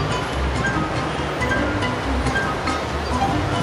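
Water flows steadily along Avenida 12 de Abril in Cuenca, a constant rushing wash like a river or stream that stays even and fairly loud throughout, with no voices.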